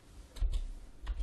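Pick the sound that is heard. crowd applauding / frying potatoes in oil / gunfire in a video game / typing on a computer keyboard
typing on a computer keyboard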